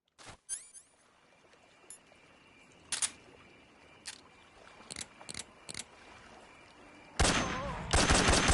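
Enemy gunfire in Metal Gear Solid 3 comes as scattered single sharp shots with gaps between them, then a loud dense burst of fire near the end.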